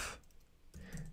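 Keys clacking on a computer keyboard as a Helm install command is typed, a short quiet burst of clicks with no talking.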